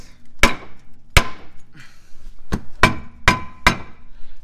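Six sharp, ringing hammer strikes against metal hit an unevenly spaced beat while a brake part is knocked loose on a 2021 Kia Soul, each blow close and loud in a quiet garage.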